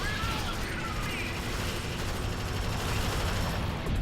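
Dense, continuous gunfire from an automated turret in the sci-fi shooter Alien Swarm: Reactive Drop, a steady loud clatter of rapid shots and mechanical whirring with no pauses across the whole stretch.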